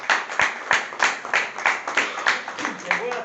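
Church audience clapping for themselves during an evening sermon, a sparse group with distinct, rhythmic hand claps spaced regularly, fairly near and moderately loud.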